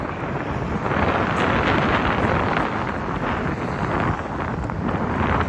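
Outdoor wind buffeting a microphone, a loud, continuous roaring rumble that swells and dips in gusts, with no clear talk over it.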